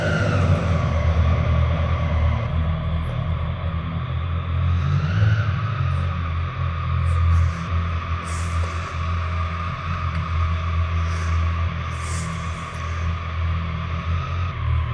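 Triumph Street Triple RS motorcycle engine running at a steady idle with a deep low rumble, close and loud, a slight rise in revs partway through and a few faint clicks above, no talking.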